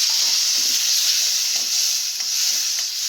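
Tomatoes go into potatoes frying in hot oil with chillies and asafoetida for street-style sabudana khichdi, giving a steady loud sizzle with faint stirring scrapes throughout, no voices.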